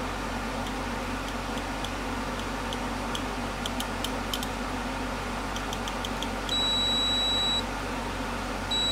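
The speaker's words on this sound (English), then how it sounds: "Sounder. Might be able to hear it." A sounder on a LoRa to WiFi gateway circuit board gives faint, regular ticking beeps, then a longer steady tone near the end, all over a constant background hiss.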